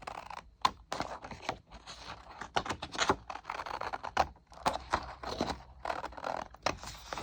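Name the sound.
cutting out paper labels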